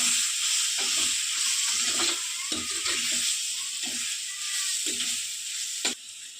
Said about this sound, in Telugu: ఇంకా బాగా కలుపుకోవాలి.